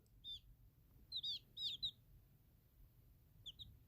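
Baby chicks give high, thin peeping chirps in short bursts: one early, a quick cluster in the middle, and two more near the end. They sound close but soft against a quiet background.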